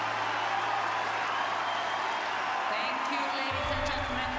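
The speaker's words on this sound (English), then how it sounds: "Every single person in the crowd was cheering their faces off for Ash" A large crowd cheering and applauding for Ash, a dense, steady roar of claps and shouts that stays loud throughout, with a commentator's voice over it.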